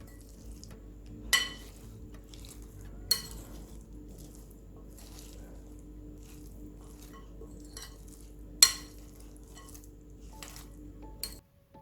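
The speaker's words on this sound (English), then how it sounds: "Now we will mix everything nicely until well combined" Red cabbage salad dressed with mustard sauce, lemon juice and olive oil being tossed in a bowl: soft, quiet squishing with a few sharp utensil clinks against the dish spaced seconds apart over a low steady hum.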